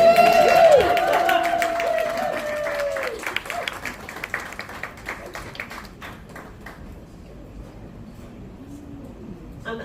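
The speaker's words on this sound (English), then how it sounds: "You're going to have to cheer for a longer time because it's a long" Audience at the Secret Cinema Grease 2025 launch event claps and cheers with a loud burst at first, then the applause thins and fades to scattered claps, with a voice briefly heard early on.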